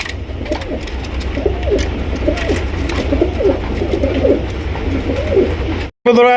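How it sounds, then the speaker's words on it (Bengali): Damascene pigeons cooing steadily for about six seconds, a repeated low throaty rhythm from several nearby birds, with a brief gap and a sharper sound at the very end. "দেখেন কত সুন্দর একজন আইস চেকার দামাসিন কবুতর দিচ্ছেন নরে ডাক দেখছেন"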